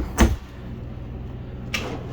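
A kitchen drawer in a 2012 Thor Motor Coach Hurricane 32A motorhome slides open with a thump, then shuts with a second softer knock after a pause, close by and with no talking.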